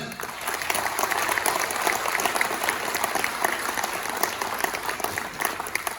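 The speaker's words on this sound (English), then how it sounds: "Big round of applause for yourself." Sustained audience applause at a Manipuri community Patriots Day gathering in Bangalore, steady dense clapping filling the whole stretch with crowd murmur underneath.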